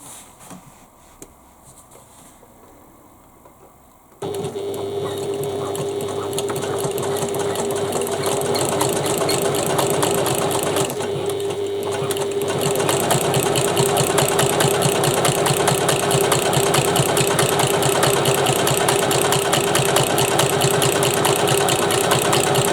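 A sewing machine stitches a Shamballa Paloma bag, starting after a few seconds of quiet and then running steadily and loudly with a constant motor hum and rapid needle chatter.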